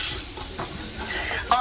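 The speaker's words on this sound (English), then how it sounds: "let me finish up frying up this here bologna" Bologna frying in a pan gives off a soft, steady sizzle with faint stirring scrapes, heard close and alone.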